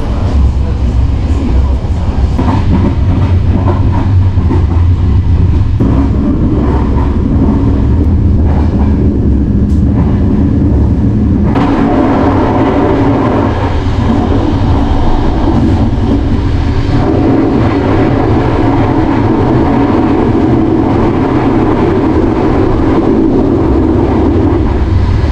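A passenger train with a first-class section runs with a loud, constant rumble and rattling carriage noise throughout, and faint voices are mixed in.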